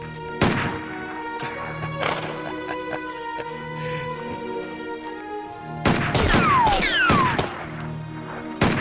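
Several sharp gunshots fired in bursts, each a loud crack with a booming tail, spread across the stretch with gaps between, alongside other clattering and ringing sounds.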